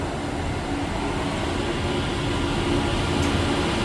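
Noisy elevator machinery hums and rumbles steadily in a machine room, a loud even mechanical drone with no voices, holding constant throughout.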